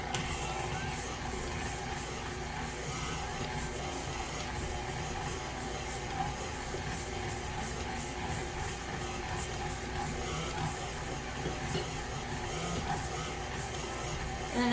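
A stand mixer kneads croissant dough with butter added, a steady dense mechanical whir holding at an even level throughout with faint rhythmic thumping, no voices.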